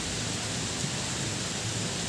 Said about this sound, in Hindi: तो बहुत ही अच्छी बारिश, प्री मॉनसून आ गया है